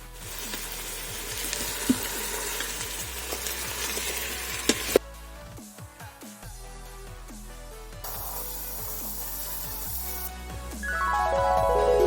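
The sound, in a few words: beef stew meat searing in an Instant Pot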